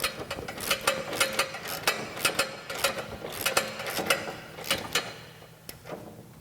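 Bolts on a Jeep XJ rear bumper and tire carrier are tightened with a ratchet, giving rhythmic bursts of close metallic clicking with short pauses between strokes and no talking.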